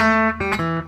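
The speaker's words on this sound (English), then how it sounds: "make sure you slide down into that note from above" An electric guitar plays a short blues riff, a quick slide down into a note followed by a couple of sharp plucked notes, close and clear with no voices.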